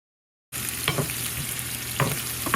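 Steady crackling sizzle of fenugreek seeds and lentils frying in hot oil for a bitter gourd curry, with occasional brief scraping stirs, close and continuous after a moment of silence.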